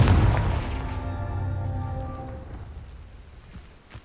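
A Confringo blasting spell in Hogwarts Legacy erupts in a loud, close boom with a crackling, rumbling tail that fades away over a few seconds and leaves a faint hiss, with no voices over it.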